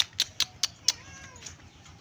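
A cat gives a faint, drawn-out meow outdoors in the morning, following a quick series of sharp, bright taps; the background is quiet.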